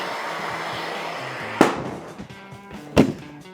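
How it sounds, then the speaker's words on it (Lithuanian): A propane-filled balloon is ignited and burns off rapidly, giving a sharp whooshing bang, and a second similar sharp burst follows about a second later over a faint background hiss. "Kas įvyks, kai uždegsim šitą propano balioną?"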